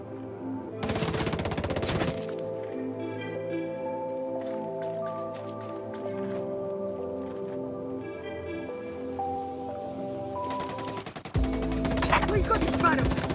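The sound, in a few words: gunfire in Ghost Recon Breakpoint video game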